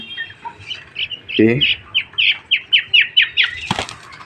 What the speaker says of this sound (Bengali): এই যে হচ্ছে কোয়েল পাখির একটা বাচ্চা